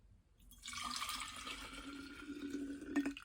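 Blueberry honey tea poured from a container into a jar for a spiced apple cider drink, a steady liquid stream splashing for a few seconds and ending with a short gurgle, close by with no talking.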